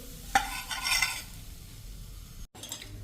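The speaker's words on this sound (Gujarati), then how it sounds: "ઉલટ પુલટ કરીને મીડિયમ ફ્લેમ ઉપર આપણે શેકી લેવાનું છે" Thepla flatbread of bottle gourd and fenugreek roasted over a medium flame on a pan and flipped, giving a brief clink of a utensil followed by soft, steady sizzling and scraping, close and fairly quiet.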